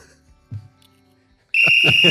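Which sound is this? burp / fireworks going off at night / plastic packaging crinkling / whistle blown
whistle blown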